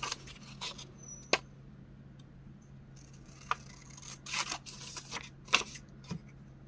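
Scissors snipping through printable and scrap paper, a few short crisp cuts spaced out over quiet background hum, close and soft, with light rustling of paper between the cuts.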